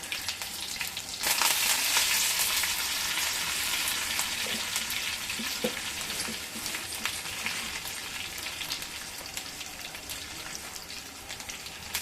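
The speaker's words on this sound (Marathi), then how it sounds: "दोन तेजपत्ता आणि याच्यामध्ये आपण बारीक चिरून घेतलेला कांदा तो छानसा परतून घेऊया" Finely chopped onion sautés in a pan of oil with crushed garlic, curry leaves and two bay leaves, a loud, continuous crackling sizzle that swells early and then settles, with light stirring taps.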